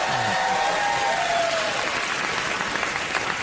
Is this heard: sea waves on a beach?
no